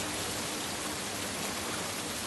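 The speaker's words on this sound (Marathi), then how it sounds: "गाडीच्या टपावर पावसाचे थेंब पडावे" Dense, even rain drums on a car roof, a steady close wash of countless drops with no voices.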